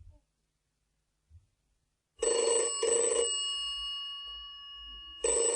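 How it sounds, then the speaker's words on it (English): A telephone rings with a bright, loud electronic trill in several bursts after a short quiet stretch. Faint sounds come before it. "A phone call."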